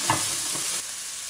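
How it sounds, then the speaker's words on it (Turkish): Ground beef sizzling in a hot pan for tarhana soup, a steady broad hiss with a light stirring scrape near the start, close and continuous. "İyice ısıttıktan sonra kıymamızı koyalım. Ve iyice kavuralım."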